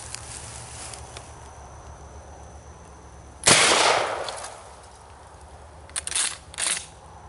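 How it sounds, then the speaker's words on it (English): A 12 gauge shotgun fired at pop cans outdoors: one sharp, loud blast with a brief ringing tail, followed a couple of seconds later by a pair of quicker, quieter cracks or clatters. "Shoot my 12 gauge and see what happens. First, I want to shoot these pop cans."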